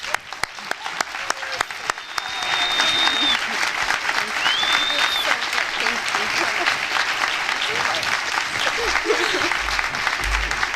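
A luncheon audience claps loudly and steadily for several seconds after a scattering of a few early claps, with faint cheers above the dense applause.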